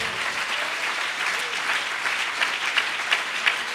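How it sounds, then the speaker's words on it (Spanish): Sustained applause from a church congregation at a convention service in Aruba, steady clapping filling the room with a few louder claps standing out near the end. "A ver ese aplauso fuerte para el Señor."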